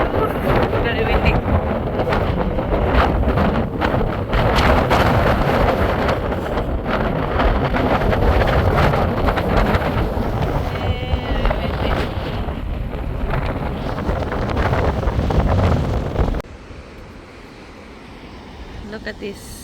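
Strong wind buffets the microphone at a beach in Woolgoolga, New South Wales, a loud, continuous roaring rumble that fills most of the clip before dropping abruptly to a quieter gusty background near the end, with a voice speaking over it.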